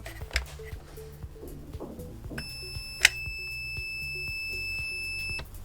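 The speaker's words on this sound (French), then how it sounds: "Un très long bip" A long, steady electronic beep from a Perun Hybrid V2 airsoft unit sounds for about three seconds after a few short clicks and chirps, fairly quiet and alone.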